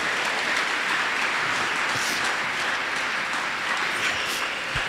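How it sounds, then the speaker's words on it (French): A church congregation applauds in acclaim during a sermon, sustained dense clapping holding steady for several seconds with no voices over it. "On peut acclamer le Seigneur."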